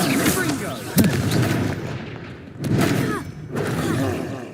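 Explosive blasts from the Confringo fire spell in the Hogwarts Legacy video game, with several loud booming bursts and crackling tails, one sharp hit near the start, set against dense game sound.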